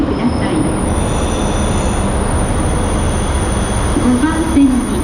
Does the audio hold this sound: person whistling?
no